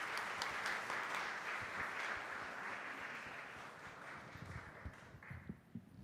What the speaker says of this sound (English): Let's give these children another round of applause.